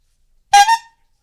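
A single loud horn blast, short and sharp, rising out of silence and cutting off after about a third of a second.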